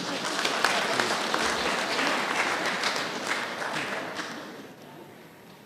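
A meeting audience at an annual delegates' gathering claps steadily and fairly loudly for several seconds, a dense wash of many hands that thins slightly toward the end.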